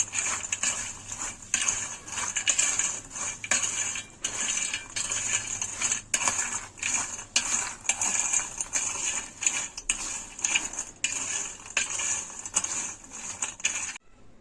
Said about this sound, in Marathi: आता याला चांगलं मिक्स करून घेऊ